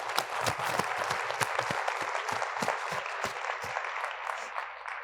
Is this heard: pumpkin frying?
no